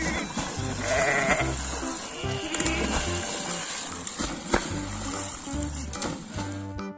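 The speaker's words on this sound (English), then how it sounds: "Sheep is a farm animal and very beautiful animal." Sheep bleat several times on a farm, their wavering calls rising over a lively backing tune that plays throughout.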